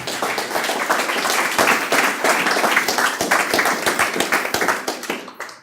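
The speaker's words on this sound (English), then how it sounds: "Please give a round of applause for Jurnell Cockhren." Audience at a conference clapping for a speaker, dense near applause that builds, holds steady, then thins out and stops.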